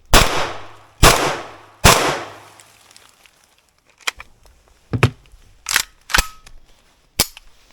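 Three loud AK-74K rifle shots with the standard muzzle device ring out about a second apart, each with a long echoing tail, followed by sharper metallic clicks and clacks of handling.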